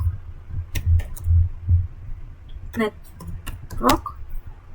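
A computer keyboard types out a router EIGRP configuration command in a short burst of close, crisp keystrokes, then a voice speaks briefly.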